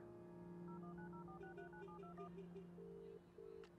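A phone number is keyed in the point-and-click game Baphomets Fluch: Der schlafende Drache, a quick run of about a dozen even DTMF tones followed by two longer ringback tones, all at low level and heard alone.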